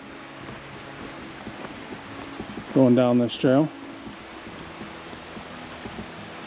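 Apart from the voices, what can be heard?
Ohanapecosh river flowing beside hiking trail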